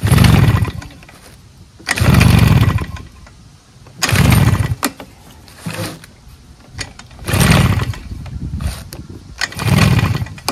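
A Husqvarna 150BT backpack leaf blower, brand new, tries to start: five loud bursts of engine sputter about two seconds apart, each dying back to quiet between pulls.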